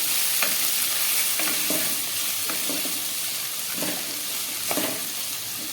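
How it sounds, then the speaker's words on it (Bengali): Beans and capsicum stir-frying in a pan, a continuous close sizzle with repeated scraping strokes of a spatula at an uneven rhythm, no talking. "এখন 2-3 মিনিট ধরে ফ্রাই করে নেব"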